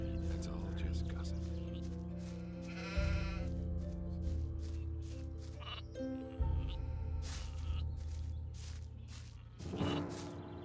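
Sheep bleat in a video game while guarding a flock, the calls rising in short bursts over steady background music and game ambience, with voiced dialogue running through.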